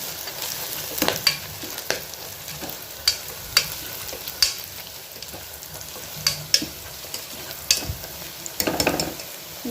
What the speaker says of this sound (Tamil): நல்லா வதங்கட்டும். நல்லா வெங்காயம் வதங்கிட்டு